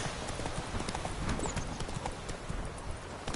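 A horse trots on in The Witcher 3 video game, its hooves giving a steady, close clip-clop that runs without a break over a busy ambient bed.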